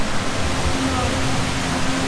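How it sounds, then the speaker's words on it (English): Indoor waterfalls in the tropical atrium of the Mirage Hotel give off a steady, broadband rushing hiss that fills the space evenly without pause. "We are actually inside the Mirage Hotel right now, and there's like waterfalls and like a whole, I don't know, tropical forest."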